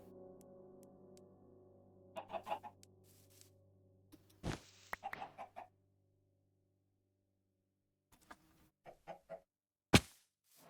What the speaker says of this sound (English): Fancy chickens